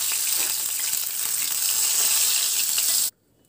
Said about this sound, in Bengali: এইভাবে আমি মাছগুলো ভেজে নেব।